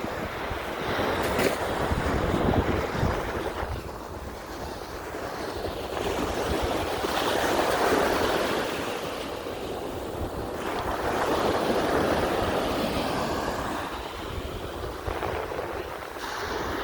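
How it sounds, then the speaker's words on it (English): Ocean waves roll and break on a shore in a continuous loud wash with wind buffeting the microphone, swelling and easing in slow surges with no talking. "Sorry about the waves, if the sound of the waves are kind of distorting what I'm saying."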